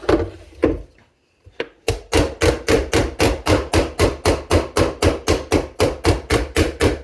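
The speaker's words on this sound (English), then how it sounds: "take your hammer and kind of tap on places" Rapid, evenly spaced metallic hammer taps on a saddle's strainer plate, loud and close, continuing in a steady rhythm after a brief pause.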